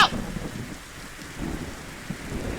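A storm in the video game Beasts of Bermuda brings steady rain with rolling thunder, opening with a sharp crack and followed by low rumbles under the constant patter.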